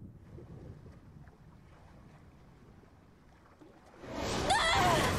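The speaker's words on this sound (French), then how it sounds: "Le ciel se couvre. Une grosse tempête se prépare." Storm wind from a Fairy Tail anime episode starts as a low, steady rumble, then swells into a loud, rushing gust with whistling tones during the last second.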